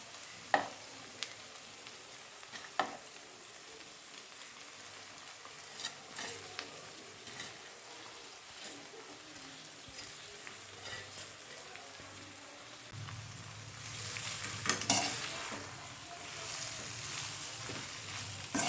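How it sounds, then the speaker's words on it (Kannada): Boiled noodles sizzle softly in a hot pan with a constant crackling hiss and scattered clinks of a utensil stirring, growing louder and more vigorous toward the end. "ಅದು ಬೆಂದಿರೋಂಥ ನೂಡಲ್ಸ್ನ ಹಾಕ್ಕೊಳ್ತಾ ಇದ್ದೀನಿ."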